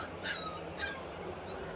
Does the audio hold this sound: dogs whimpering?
yes